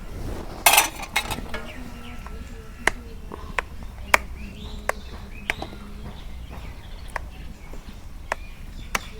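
A metal spoon clinks and scrapes against a cooking pot while taro stolon lentils are stirred, a string of sharp irregular taps under faint background sound, with birds calling in the distance.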